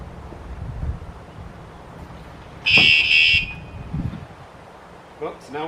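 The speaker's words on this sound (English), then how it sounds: "I'll pull it again to get the full-fledged alarm" A security alarm on a kayak trailer blares for under a second as a loud, piercing shrill tone amid wind noise, with someone talking quietly before and after it.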